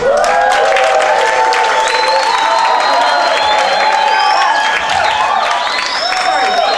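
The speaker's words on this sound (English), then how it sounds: "let's give a big applause for Mr. Benito, the Spanish Minister of Arts and Education" An audience at an awards ceremony applauds loudly and continuously, with whoops and cheering voices rising above the clapping throughout.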